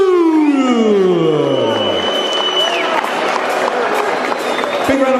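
A boxing arena crowd roars and applauds after a TKO stoppage in a Tim Tszyu vs Marcos Cornejo fight, loud and continuous cheering with a swooping whistle-like sweep early on, the noise staying dense to the end.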